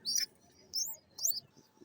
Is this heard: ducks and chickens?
no